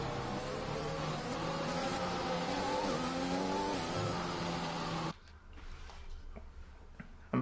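Race cars in the F1 2021 video game roar together with high, layered engine howls. Several cars close in from behind at flat-out speed, then the sound cuts abruptly to a quieter engine hum.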